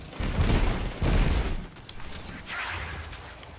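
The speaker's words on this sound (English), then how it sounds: "There's another explosion though." Explosions in the video game FWC FTL during PVP gameplay: two loud, broad noisy blasts in quick succession, then a softer rumbling burst trailing off, with no talk.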